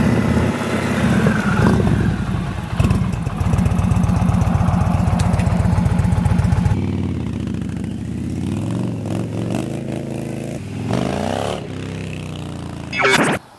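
An Indian Challenger motorcycle with an upgraded exhaust and the catalytic converter removed rumbles loudly and up close, its engine note rising and falling as the rider revs and pulls away, with no talking over it.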